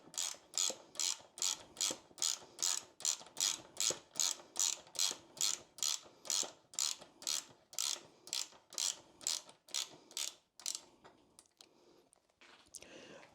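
Ratchet wrench tightening the bolt of a springer seat kit on a Triumph Bobber, a steady series of close, crisp clicking strokes repeating about twice a second, slowing and fading out near the end.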